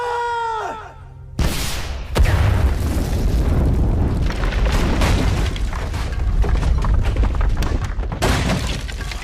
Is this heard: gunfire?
yes